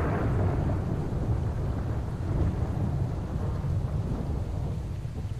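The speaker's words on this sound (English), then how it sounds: "So is the friggin' storm here. The in-game one," An in-game thunderstorm in S.T.A.L.K.E.R.: Call of Pripyat rolls with deep, continuous rumbling and heavy rain hiss, loud and steady throughout with no talking.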